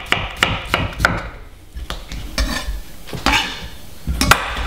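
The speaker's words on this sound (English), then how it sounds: "using a nice sharp knife, just slice them up" A sharp knife slices through melon on a hard board, about a dozen crisp cuts that each thud and scrape, falling into an uneven rhythm that stays close and fairly loud.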